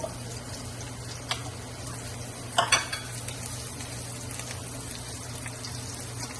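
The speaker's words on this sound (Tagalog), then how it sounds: "mainit ang ating mantika. Lagyan na natin ang bawang. Sabay na rin natin yung ating sibuyas." Garlic and onion fry in hot oil in a pan, producing a low, constant sizzle with a few sharp clatters of a utensil against the pan partway through, heard close up with no talking.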